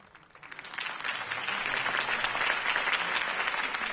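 Dense crowd applause in a video game city rally scene, swelling in over the first second and then holding steady and loud as a broad wash of many clapping hands, with no voices over it.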